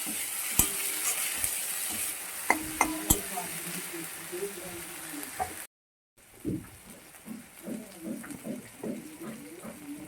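Spices frying in a pan for a pomfret fish dish, a gentle sizzle with sharp utensil clicks and taps against the pan, a brief gap, then softer stirring scrapes, close by with no talking.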